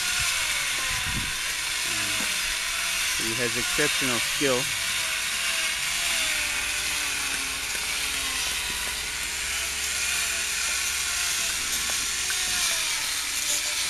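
A power tool whines steadily throughout, grinding against stone during Shona sculpture carving in Zimbabwe, while someone speaks briefly over the noise.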